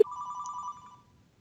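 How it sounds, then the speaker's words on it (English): A phone rings with a quick electronic trill, one short burst that fades away, faint and heard alone. "the phone is ringing, and now you can actually hear my phone calling"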